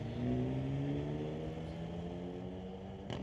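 A Hyundai Elantra's engine drones steadily at a street-legal night drag race at Mission Raceway Park, a sustained loud tone whose pitch drifts slightly, heard from a distance.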